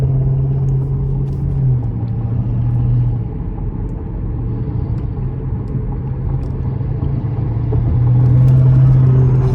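A 2023 Lucid Air Pure in sprint mode on the interstate gives a low, steady electric drivetrain hum over heavy road and wind rumble, swelling slightly near the end as it pulls hard; no one speaks.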